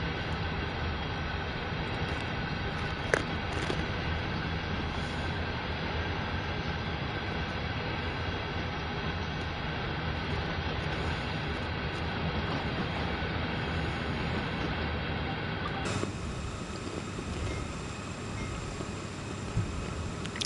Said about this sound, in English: that's a perfect way to describe this wagon that's just passing us now